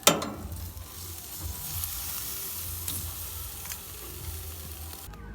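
Jerk chicken turned and basted with sorrel sauce sizzles over an open fire, a steady, fairly quiet frying hiss with small crackles that runs unbroken for several seconds before cutting off abruptly near the end.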